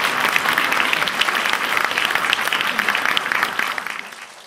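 A concert audience at a charity show for "Gniazdo" gives a loud, sustained round of applause for the host, a steady dense clatter of many hands with no pause.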